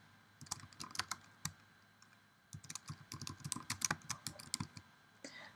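Quick bursts of typing on a computer keyboard while entering a title, keys clattering in short irregular runs with a brief pause between flurries, close and fairly quiet with no talking.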